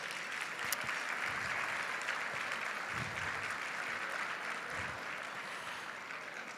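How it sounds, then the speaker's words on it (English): Audience applause fills a hall at a debutante cotillion program in Chicago, a dense, steady wash of many hands clapping at moderate loudness throughout, with no talk over it. "Let's give them a round of applause."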